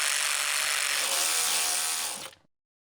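A power tool runs steadily on a Polaris turbo charge pipe as it is tightened down, a loud continuous high-pitched whir for about two seconds that cuts off abruptly, with no talking.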